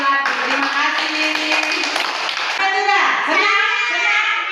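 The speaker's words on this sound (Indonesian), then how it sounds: "Tepuk tangan untuk kelompok mawar dan melati." A room of schoolchildren clap together in a burst of dense applause, with children's voices mixed in throughout and a few voices rising near the end.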